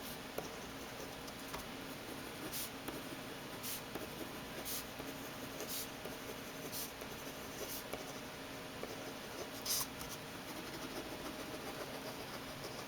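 A Paper Mate EraserMate ballpoint pen writes on paper with pressed, steady scratching strokes, a close, soft scraping texture punctuated by brief louder strokes over a faint background hiss.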